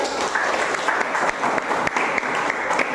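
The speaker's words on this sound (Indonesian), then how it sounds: "Iya, tepuk tangan dulu." Classroom applause after a student group finishes presenting, a steady wash of many hands clapping at close range and filling the whole stretch with dense, even crackle.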